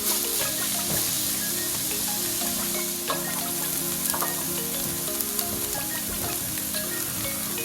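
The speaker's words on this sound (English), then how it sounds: "We are going to saute those for about 4 minutes until they just start to get a little bit" Chopped garlic and onion sauté in a hot pan as the base of a kimchi and lentil stew, giving a steady close sizzle with occasional stirring scrapes and no voices.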